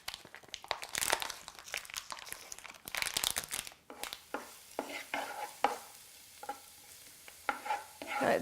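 A pound of ground beef sizzles in a hot pan while a utensil stirs and scrapes it in repeated close bursts, the frying hiss rising and falling between strokes.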